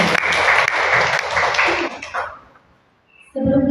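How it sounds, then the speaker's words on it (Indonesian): Brief round of audience applause at an education session, dense clapping for about two seconds that fades into near silence before a voice begins speaking. "Beri tepuk tangan Bapak."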